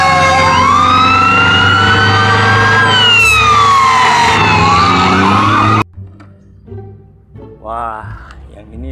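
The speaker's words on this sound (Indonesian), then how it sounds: "kalau yang ini mobil truk pemadam kebakaran" A fire truck siren wails loudly and close, sweeping up and down for several seconds before stopping abruptly, after which a voice speaks over quieter background noise.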